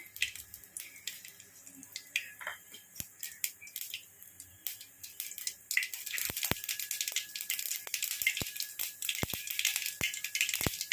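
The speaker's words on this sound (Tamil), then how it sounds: "கடுகு நல்லா வெடிக்கட்டும்." Mustard seeds popping in two spoons of hot oil while ragi upma is made: sharp, close crackles and snaps, sparse at first, then denser and busier halfway through.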